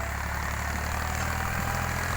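A Mahindra tractor used for ploughing a field runs with a steady, loud, low engine drone and a faint rattling vibration, continuous throughout with no talk.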